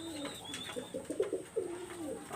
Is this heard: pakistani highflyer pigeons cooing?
yes